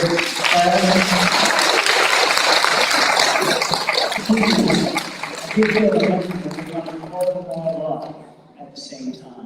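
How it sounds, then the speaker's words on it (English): Applause from the audience at a first-grade awards assembly for a class, a broad clatter of clapping that fills the room for several seconds before thinning out, with voices talking over it. "Let's give another round of applause for Mrs."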